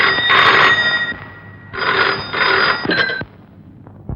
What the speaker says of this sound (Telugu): ఈ గదిలో ఫోన్ మోగింది